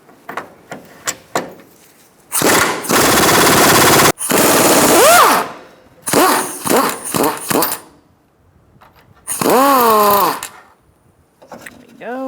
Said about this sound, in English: I'm going to take out this bolt,